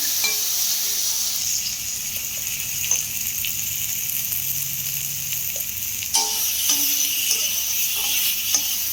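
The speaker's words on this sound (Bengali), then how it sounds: "ভাজা প্রায় কমপ্লিট, এবার জল দিয়ে দিলেই হয়ে গেল।" Vegetables with plantain and potato fry in a pan, producing a steady close sizzling hiss with occasional clinks and stirring taps throughout.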